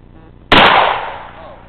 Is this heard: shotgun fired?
yes